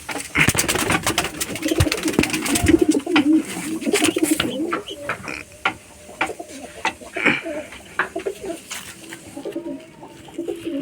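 Several pigeons coo repeatedly and close by, mixed with wing flaps and scuffling, with little talk.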